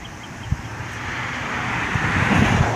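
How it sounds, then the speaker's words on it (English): A vehicle passes by on a road, its rumble swelling as it nears, with a faint thump early and steady traffic noise beneath, on a windy day. "You can hear the traffic go by"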